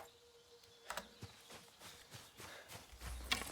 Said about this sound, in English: I did hear deer